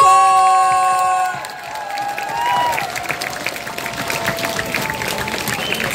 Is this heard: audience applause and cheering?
yes